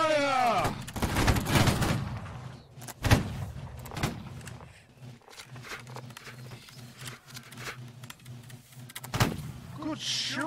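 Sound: musket volley fired by line infantry in Holdfast: Nations at War video game

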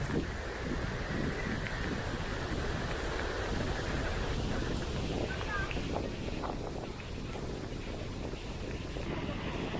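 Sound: wind

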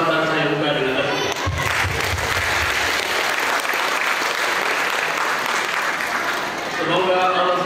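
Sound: audience applause opening a regional meeting

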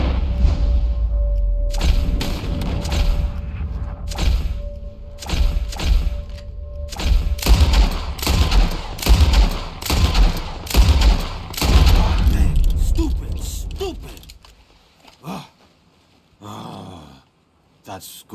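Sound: gunfire shooting at flying birds in video game Red Dead Redemption 2

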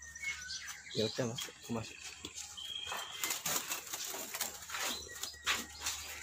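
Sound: white-rumped shama parent birds agitated at a breeding farm

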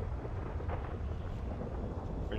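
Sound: thunder in GTA V LSPDFR video game thunderstorm

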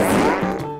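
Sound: cartoon fart sound effect

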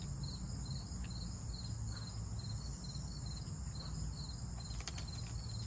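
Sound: bugs chirping or buzzing nearby

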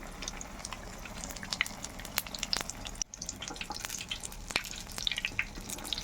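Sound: frying besan-battered tomato chops in oil

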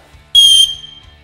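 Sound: emergency whistle on a survival backpack sternum strap

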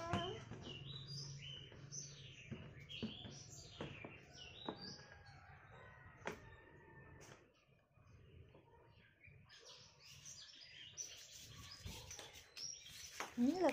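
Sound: birds chirping

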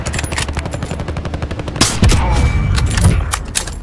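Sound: assault rifle gunfire in video game Call of Duty Warzone 3

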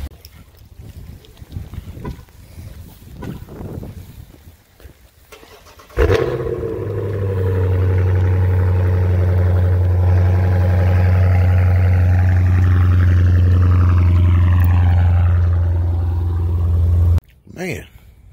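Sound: 2012 BMW 750Li car driving

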